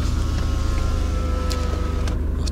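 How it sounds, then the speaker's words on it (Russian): Rough, tractor-like diesel clatter from a Mitsubishi Pajero 3 engine idling, a steady low rhythmic throb heard from close by, loud and continuous with no talk. "если вы не слышите этот тракторный двигатель"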